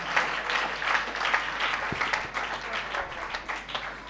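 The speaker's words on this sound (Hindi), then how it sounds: "ताली बजाकर प्रभु को धन्यवाद करें।" Congregation at a Sunday church service applauding to thank the Lord, a steady crackle of many hands clapping at moderate loudness without talk.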